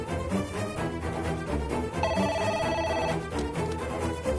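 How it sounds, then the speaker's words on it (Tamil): A telephone rings after a number is dialed, giving a steady repeating electronic ringtone under background music in a Tamil TV drama scene. "இதுல இருக்க நம்பருக்கு ஃபோன் பண்ணி பார்ப்போம்."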